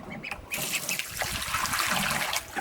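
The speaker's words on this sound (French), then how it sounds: "Je vais remettre encore de l'eau." Water poured into a container for ducks to drink, splashing and trickling steadily while ducks quack and geese call nearby, with the pour starting sharply about half a second in.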